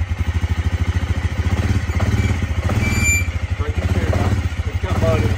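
An Eiger vehicle with sticky, mud-fouled brakes reverses slowly, its engine running in a steady low pulsing chug with occasional clattering throughout, while people talk over it.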